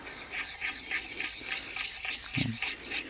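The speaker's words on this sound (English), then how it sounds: "I'm trying to get to the back of the bevel with this, which is easier because it's a shorter stone" An axe bevel is worked on a short sharpening stone, giving a rhythmic series of rasping, scraping strokes, close and fairly quiet, about ten passes with a brief knock near the end.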